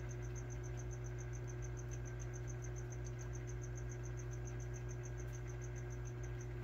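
Crickets chirping inside a tarantula cage, a fast, regular train of high-pitched pulses over a steady low electrical hum, quiet and close.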